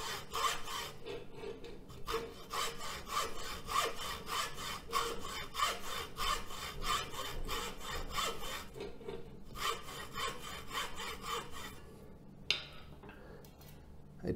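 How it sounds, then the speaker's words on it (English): Hand saw with coarse teeth cutting across a wooden block held in a clamp, steady rhythmic back-and-forth rasping strokes close by, with a short pause midway and a faint knock near the end. "I tried this saw and the teeth were just too coarse and the block kept trying to jump out of the clamp"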